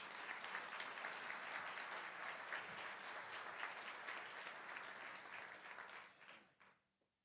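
An audience at a Hilton hotel function room welcomes Coach Noseworthy with steady, dense clapping from many hands that holds for several seconds and then fades away.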